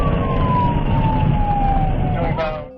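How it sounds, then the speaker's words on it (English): A police car siren wails loudly and close during a traffic stop pursuing a white Camaro, one long descending tone with engine rumble beneath, cutting off sharply at the end. "the officer activated their overhead lights and siren"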